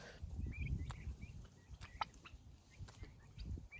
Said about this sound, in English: Just got a turkey pecking at me.